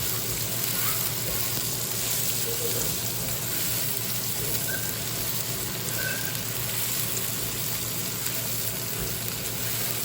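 Onions frying in a pan for spinach egg fried rice give a steady, dense sizzle that holds evenly throughout, with a voice speaking faintly over it.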